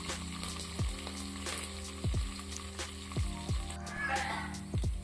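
Green chillies and curry leaves frying in hot oil while a ladle stirs them, a steady sizzle broken by repeated knocks and scrapes of the ladle against the pan, fairly quiet overall.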